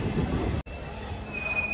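The Purulia–Tirunelveli train stands at platform 3 of Nidadavolu Junction, its low rumble broken by a sudden brief dropout, followed by a sustained high metallic wheel squeal that rises and persists.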